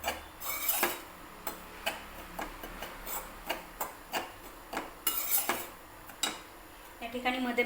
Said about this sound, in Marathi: रवा छान मीडियम आचेवरच या ठिकाणी आपण व्यवस्थित भाजून घेणार आहोत.